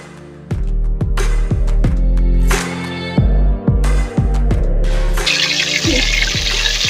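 A whole tomato hits hot oil, setting off a loud, harsh sizzling roar close up, with sharp crackling bursts and spatters. The sizzle swells and rushes continuously for several seconds without talk.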